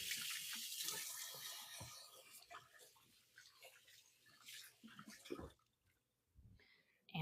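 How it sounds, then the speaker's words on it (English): A kitchen tap runs while hands are washed, a strong close splash of water at first that tapers into softer, intermittent trickles and handling noises before stopping. "I'm going to go wash my hands."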